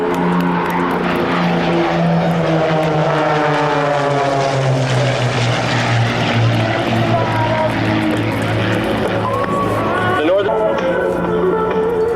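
Military display team aircraft fly a simultaneous roll at an air show at Quonset ANGB, a loud sustained engine roar with shifting tone as they pass, and an announcer talks over it.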